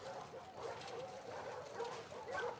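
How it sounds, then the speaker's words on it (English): Dogs in The Last of Us Part II bark, yip and whimper faintly in a short burst of overlapping canine sounds. "Doggies! Yeah, a shit ton of doggies."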